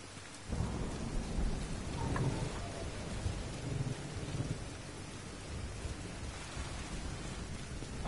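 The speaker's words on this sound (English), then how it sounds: "Damn, this storm is nasty, dude." Thunderstorm with rain in the video game The Division 2: a steady wash of heavy rainfall with deep thunder rumbling through it, loud and continuous, with no talking.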